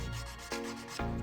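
Sanding the leather edge of a circle bag gives short rough rubbing strokes, two or three close scraping passes in quick succession, fairly quiet and with no talk.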